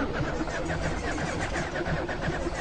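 A car engine in the video game Lethal Company cranking repeatedly without catching, a rough rhythmic churning that stays loud and close throughout the short stretch.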